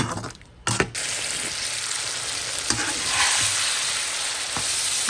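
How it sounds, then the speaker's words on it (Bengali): Vegetable stems being stir-fried in a pan, a dense steady sizzle after a few sharp clanks of the spatula, with intermittent scraping and no speech. "ডাটাটাকে একটু ভালো করে কষিয়ে নিব"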